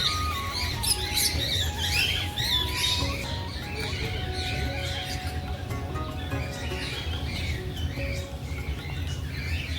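A colourful long-tailed bird calls at a nature park zoo in Surat, giving repeated shrill squawks and chirps over a steady background murmur of other birds and outdoor noise, fairly close and prominent throughout.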